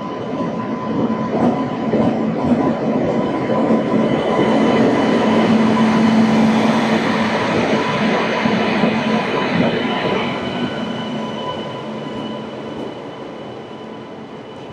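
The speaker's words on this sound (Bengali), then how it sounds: "আসছে শিয়ালদা রাজধানী" The Sealdah Rajdhani Express rolls through a junction late at night with a loud, sustained roar of wheels on rails, swelling as it passes close by, with faint wheel squeal and clatter fading slightly toward the end.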